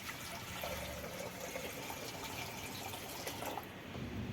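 Water pours steadily into a pot on a mud stove, a continuous splashing rush at close range that fades slightly toward the end.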